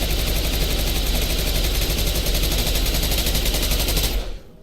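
Upgraded submachine gun firing a long, continuous rapid burst in the video game Mass Effect 2, loud and dense with a fast rattling rhythm, stopping abruptly near the end, no talk over it.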